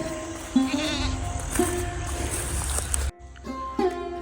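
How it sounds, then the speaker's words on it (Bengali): Goats feeding outdoors in a village, bleating several times in short nasal calls at moderate distance over a continuous low rumble of background noise, with no clear talk. "ছাগলগুলো মনে হচ্ছে খুবই ব্যস্ত আছে খাবার খেতে"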